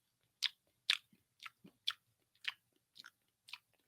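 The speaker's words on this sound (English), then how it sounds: "I ain't even chewing that loud, bro." Someone chews gum loudly with wet, smacking bites in a steady rhythm, about seven distinct close-up chomps spaced roughly half a second apart against near silence.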